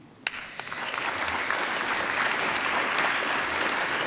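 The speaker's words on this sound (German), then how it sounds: "Applaus" Audience applause at a party assembly held to choose candidates for a federal election list, starting with a few sharp claps and quickly swelling into steady, dense clapping from a large crowd that holds loud and even to the end.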